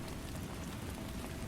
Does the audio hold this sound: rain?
yes